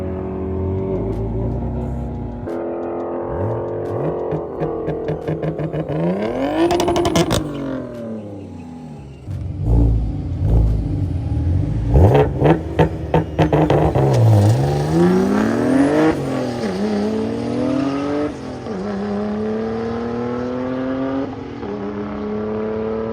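A BMW 335i fitted with a big single turbo accelerates hard on a run, its engine climbing through gears with rising and falling revs, a loud close drone over about twenty seconds.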